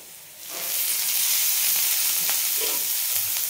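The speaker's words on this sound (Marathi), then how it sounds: "आणि छान हा पण आपण सोनेरी कलरवर भाजून घ्यायचा आहे कांदा" Onion frying in oil with a pinch of salt for shevbhaji, a quiet start that swells into a loud, dense, continuous sizzle close up, with no voices.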